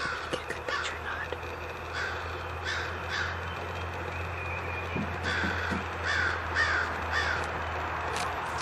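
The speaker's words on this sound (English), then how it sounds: "The crows are going crazy." Several crows caw repeatedly at a distance, harsh calls coming in scattered bursts over a steady outdoor hum.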